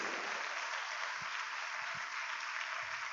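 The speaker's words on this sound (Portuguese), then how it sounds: "Dá um aplauso a ele de novo." A church congregation applauds during a celebration service, a dense, steady wash of many hands clapping at once, heard from within the crowd at moderate level with a few low thumps underneath.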